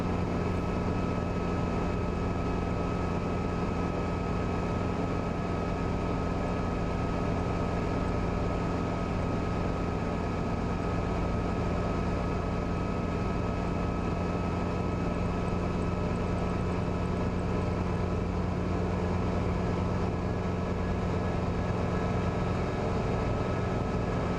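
A helicopter's engine and rotor idle at reduced rotor speed, about 420 to 450 RPM, to cool down on the ground. A steady, loud mechanical drone with a constant hum runs unbroken for the whole stretch, with no talking.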